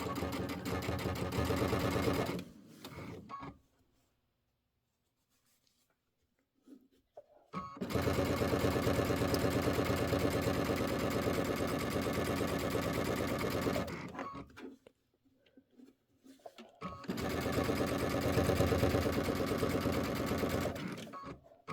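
A sewing machine runs in long continuous bursts while stitching a quilt block, a loud, even mechanical whir that stops for a few seconds between runs, with no talk.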